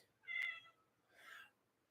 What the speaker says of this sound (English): My cats are whiny.